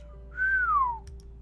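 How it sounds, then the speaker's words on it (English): A person whistles a single clear note that swoops up and then slides down over about half a second, close and alone above a low steady hum, on an evening outing before a fireworks show. "Whistling."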